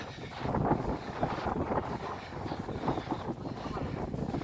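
Wind gusts across an open, snowy winter bog, buffeting the microphone in a steady roar with rising and falling surges, close and fairly loud.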